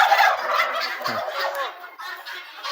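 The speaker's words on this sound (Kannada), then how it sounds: "ಇದು ಟರ್ಕಿ" A turkey on a farm gobbles loudly and close, a rapid, warbling rattle that carries on for a few seconds with no one speaking over it.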